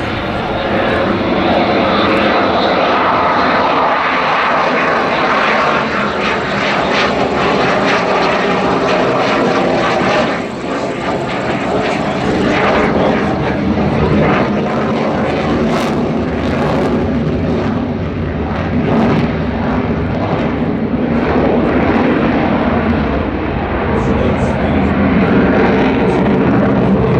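An aircraft roars past in a high angle of attack, slow speed display pass at the Farnborough airshow, a loud sustained engine drone that swells and shifts over nearly half a minute.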